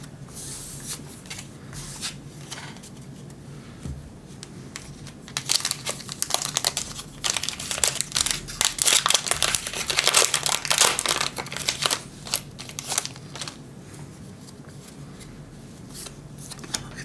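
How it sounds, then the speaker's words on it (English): Magic: The Gathering collector booster pack wrappers crinkle as they are torn open, with a steady rustle that swells into a louder burst of crackling foil before settling again. "That second pack, foil Elspeth."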